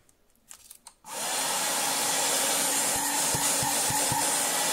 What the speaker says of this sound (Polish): i odkurzacz już powinien działać.